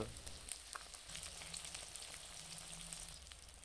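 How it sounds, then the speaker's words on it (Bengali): Rohu fish frying in hot oil in a wok, a steady, soft sizzle running throughout with light crackles and no voices. "দ্বিতীয় পাশেও ঠিক একইভাবেই ভেজে নেব মাছটি লাল হয়ে আসা পর্যন্ত"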